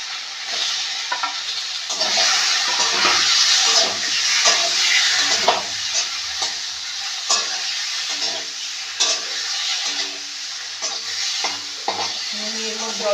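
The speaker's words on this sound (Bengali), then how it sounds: "এখন আমি ভেজে রাখা পটলগুলো দিয়ে দেব।" Previously fried pointed gourd pieces sizzle loudly as they are stirred around a pan for a potol posto dish, a steady bright crackle broken by frequent scraping stir strokes, with no talking.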